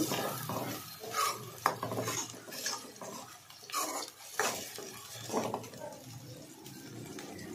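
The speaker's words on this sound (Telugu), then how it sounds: "ఉల్లిపాయ పేస్ట్ వేసా, గోల్డెన్ బ్రౌన్ కలర్ వచ్చేలాగా వేయించుకోవాలి ఉల్లిపాయ పేస్ట్" Onion paste fries in oil in a pan while a spoon scrapes and clinks against the metal, irregular stirring strokes over a soft sizzle, fairly quiet and close.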